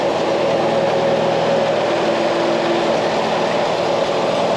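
A seized-engine tractor, brought back running, idles with a steady, loud, droning mechanical hum while its hydraulics are tested, with no change in pitch throughout.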